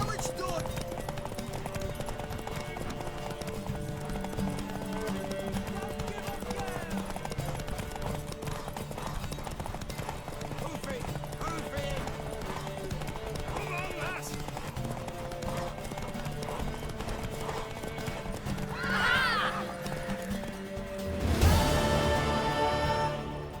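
Horses race at a gallop in The Witcher 3, their hoofbeats steady under music and game sounds, swelling near the finish with a brief louder burst.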